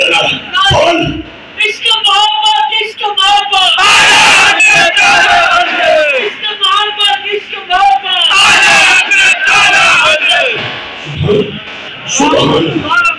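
A large crowd at an Eid Milad un Nabi gathering roars a religious slogan back in loud, repeated bursts of collective shouting, rising and falling with brief pauses between the chants.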